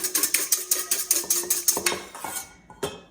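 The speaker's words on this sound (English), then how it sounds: "So I'm gonna just whisk up this egg." An egg whisked in a large bowl: quick, regular clinks of the whisk against the bowl, close and fairly loud. The strokes come about three per second, then slow and stop near the end before one last tap.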